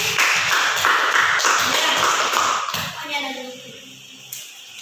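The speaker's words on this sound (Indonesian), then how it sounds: "Tepuk tangan untuk Faiza dan Putri." Students in a classroom clap in a quick, rhythmic burst for two classmates after a group presentation, the claps distinct and close, then fading as a teacher's voice takes over.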